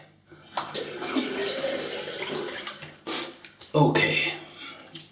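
A razor is rinsed under a running bathroom tap during a traditional wet shave, the steady splash of water broken by brief pauses and sharper bursts as the blade passes through the stream.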